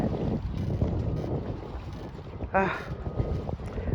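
A trimaran boat underway on open water outside Fort Pierce, with steady wind and hull noise throughout and a brief louder splash or whoosh midway.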